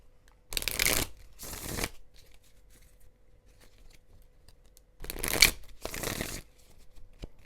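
Two pairs of quick riffle shuffles of a tarot card deck, crisp rapid flutters separated by a few seconds of quiet.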